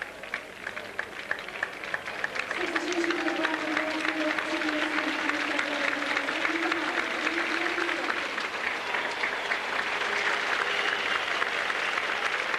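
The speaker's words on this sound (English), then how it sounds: "Ian Henderson gets a big round of applause as he goes to the bench for a well-earned rest" Rugby league crowd at Bradford versus Leigh applauds as Ian Henderson leaves the field for the bench, a broad, steady wash of clapping and crowd noise swelling after a quieter start and holding strongly throughout, with a sustained vocal tone riding over it mid-way.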